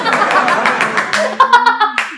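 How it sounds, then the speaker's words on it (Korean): A group in a laughter therapy session claps hands in a quick, steady rhythm, close and fairly loud, then breaks into voiced laughter and chuckling. "박수 하시면"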